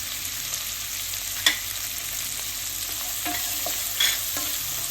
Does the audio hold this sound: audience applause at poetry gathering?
no